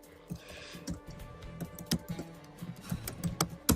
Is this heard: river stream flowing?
no